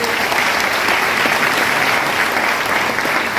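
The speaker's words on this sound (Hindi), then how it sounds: "मैं चाहूंगा सबके लिए जोरदार ताली होनी चाहिए।" At a Vestige success seminar, a large crowd delivers loud, thunderous applause, a thick unbroken roar of clapping hands that holds at full strength from start to finish.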